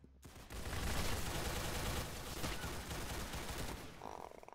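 Sustained rapid gunfire rattles through a multiplayer shooter, a dense, continuous burst of close shots lasting several seconds before easing off.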